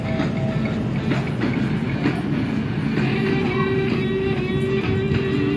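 Expo Line light-rail train heading to Santa Monica, a steady close rumble of wheels on track with faint clicking and a brief rising squeal, continuous with no talk.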